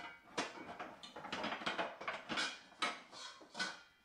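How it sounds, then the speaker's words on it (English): Pots, pans and oven doors clanging in a FNAF video game, a quick flurry of a dozen or so sharp metallic clatters and knocks, fairly close, with no talk. "there are 4 different sounds for pots, pans, and oven doors clanging about."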